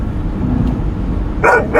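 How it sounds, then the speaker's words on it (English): Dog barking indoors over a steady background hum: one or two short, loud barks close by near the end. "antagonizing the dog so he can make noise through my show"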